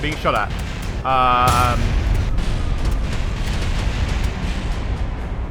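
Gunfire and impacts strike a submarine in Kerbal Space Program, a sustained loud barrage of booming, crackling hits filling the whole clip, with a brief synthetic tone sweep near the start.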